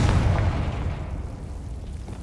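An explosive Confringo spell goes off in the Hogwarts Legacy video game as one dull, low boom that starts loud and fades away over about two seconds.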